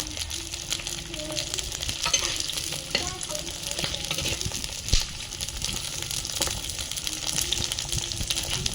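Curry leaves and green chilies sizzle in hot oil for a fish curry, making a continuous crackling fry with sharper pops and light stirring clatter throughout, close and fairly loud.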